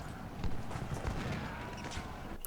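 Horses' hooves clip-clop in the Civil War strategy game Ultimate General: Civil War, a steady run of dull thuds under a layer of ambient game noise, with a faint whinny in the mix.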